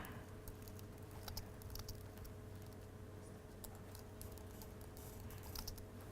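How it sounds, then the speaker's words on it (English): Rapid, irregular clicking of keys on a computer keyboard, quiet and close, continuous for several seconds with no voices. "you get to watch me type"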